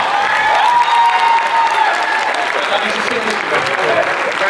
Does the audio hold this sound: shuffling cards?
no